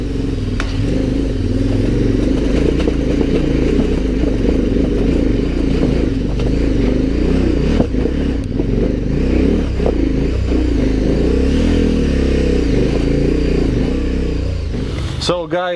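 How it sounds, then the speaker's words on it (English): A KTM 1090 Adventure R motorcycle riding on roads on Naxos, its engine droning loud and steady with rising and falling revs and wind rush throughout, no voices. "Vasily and I have been set the task of riding to the statue of Kouros."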